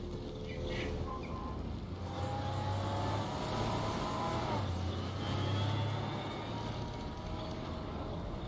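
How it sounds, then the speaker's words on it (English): A vehicle engine in the Halo Wars 2 video game hums steadily at moderate volume, with rising whine tones layered over a low constant rumble. "Listen to that engine purr."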